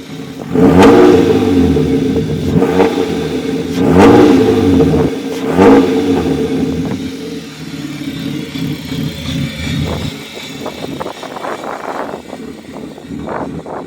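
A swapped engine in a BMW E36 fires up and revs hard several times in quick bursts, then settles into a rough, lumpy idle, loud and close.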